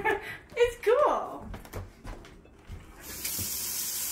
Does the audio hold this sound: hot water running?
yes